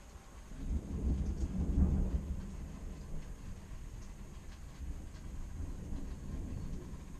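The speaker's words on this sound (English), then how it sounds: "Thunder's just not going to let up." Storm thunder rolls in a deep, rumbling swell that peaks early, then settles into a steady low grumble that continues to the end, with no talking.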